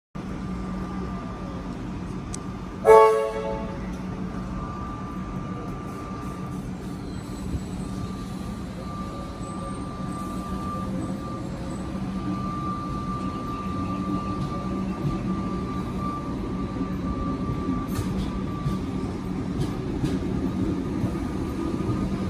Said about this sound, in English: Train arriving on platform 8.